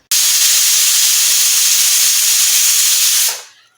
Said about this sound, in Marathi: एक शिट्टी झाली आहे